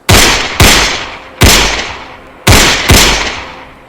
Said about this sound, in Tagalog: mga putok ng barel ang sumalubong sa pamilya Salandig at Dalagit.